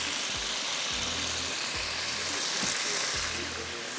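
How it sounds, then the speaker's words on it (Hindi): Green chilies fry in a covered pan for tarka with a steady, close sizzle, broken by a series of low popping bursts at regular intervals as the chilies spit against the lid. "इसको कवर कर देते हैं, थोड़ा सा ये फ्राई होगा।"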